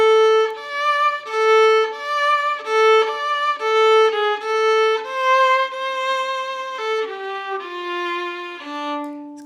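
A solo fiddle plays a tune slowly and legato, like a somber classical piece, with clear sustained bowed notes that rise and fall in a measured phrase and no talking.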